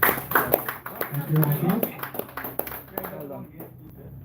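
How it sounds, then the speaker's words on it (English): Applause at a sports club awards presentation, scattered claps under talk, with a voice speaking briefly as the clapping tapers away. "Rounds of applause to you guys"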